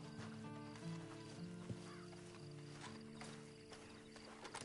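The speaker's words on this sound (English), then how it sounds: "Then you better get on this horse." Horse hooves clip-clop in Red Dead Redemption 2, a steady light trot over a bed of game music, with a brief snort or whinny partway through.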